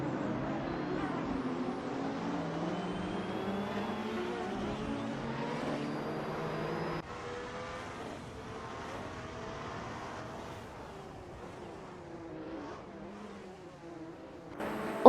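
Race car engines in a retro supercar racing simulator game drone steadily, with layered engine tones shifting as cars run together and one abrupt change partway through, and a faint voice at times under the engine noise.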